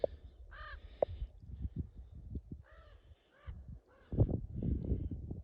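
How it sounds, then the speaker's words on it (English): Several crows caw loudly in bursts, harsh repeated calls overlapping, with rustling and scattered background noise between them. "Look at all these crows. That one's screaming."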